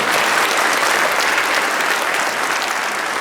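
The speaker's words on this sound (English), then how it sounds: "can we give them a round of applause?" Loud, dense audience applause at a spring choir and orchestra concert, a sustained wash of many hands clapping together without any talk on top.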